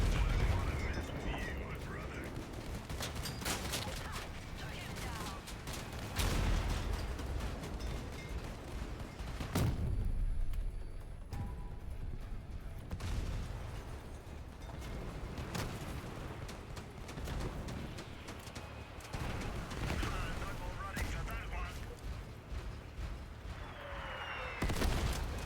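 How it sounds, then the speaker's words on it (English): Heavy cannon blasts from a mech in a post-apocalyptic video game boom repeatedly amid continuous dense combat noise, with sharp impacts recurring throughout and game effects filling the gaps. "The sounds that the cannons make in this are"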